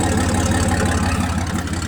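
A truck engine idling on its stock exhaust, close and loud, with a steady low rumble and even pulsing throughout and no talking.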